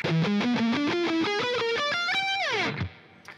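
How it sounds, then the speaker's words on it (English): A heavily palm-muted, distorted electric guitar lick: fast chugging notes climb steadily in pitch, then a sustained note slides down and cuts off, loud and close. "we have a really cool lick that sounds like this"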